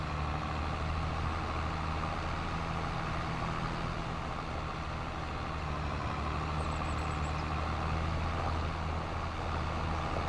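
A tractor engine in Farming Simulator 25, heard from a distance as a steady low droning rumble that holds evenly throughout with no break, fairly faint and without any talking.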